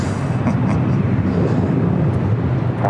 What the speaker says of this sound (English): China Airlines cargo, 777 making that left-hand turn.